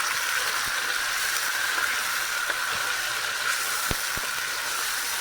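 Chicken frying with onions gives a steady, close hiss and sizzle that holds even throughout, with a few faint clicks and taps of a utensil and no voices.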